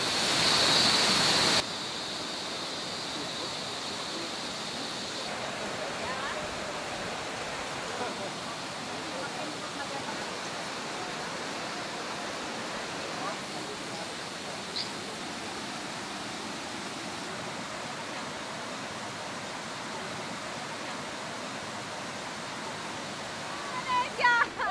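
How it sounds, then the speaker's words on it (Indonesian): The rushing water of the Amandit River fills the scene with a steady, dense roar that stays even throughout, with a few faint splashes near the end. "Deras Sungai Amandit kembali menyapa"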